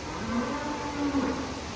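Low, drawn-out lowing from cattle at the Dutch Dairy farm in Bangladesh, two moderate moos rising and falling over a constant background hum, with no voices.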